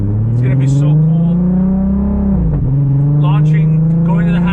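Audi RS3 five-cylinder engine with aftermarket exhaust droning loudly, pitch rising then dipping sharply as it downshifts with a brief crackle, then holding a steady tone while people talk.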